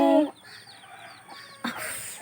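A hen clucks among her newly hatched chicks, whose faint, high peeps repeat in quick bursts; a louder call opens and another noisy burst comes near the end, all at a modest distance without talk.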